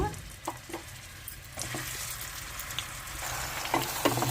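Bottle gourd pieces fry in hot oil for a curry, giving a soft, steady close sizzle with occasional light clicks and scrapes of stirring.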